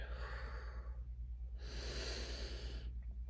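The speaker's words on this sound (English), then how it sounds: "just pause, breathe in deeply. Breathe in love and breathe out fear." Two slow, deep breaths during a guided chakra meditation, each a long airy inhale or exhale about a second or more, close and soft over a steady low hum, with no talking.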